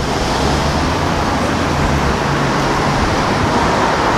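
A Lotus car passes on a road through Santa Monica and Beverly Hills, buried in loud, steady traffic and road rumble with no distinct engine note standing out, heard from inside a moving vehicle.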